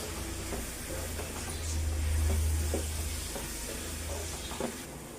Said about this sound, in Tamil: இதோட நம்ம வதக்கிக்கலாங்க.